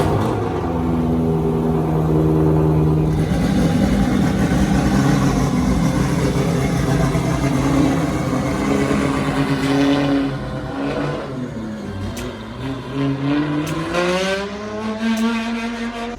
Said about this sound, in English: I don't know if you guys have ever heard 8-to-1 exhaust.